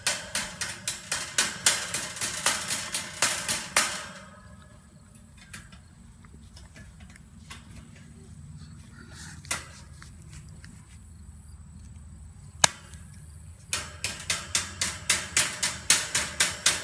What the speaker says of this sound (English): Then I can take that little piece and just hammer it down.